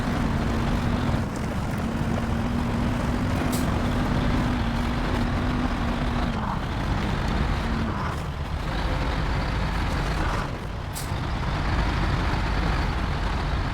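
Steady, loud drone of an SUV truck engine in the off-road driving game Snowrunner, holding a constant pitch with a slight dip partway through, with no talk over it.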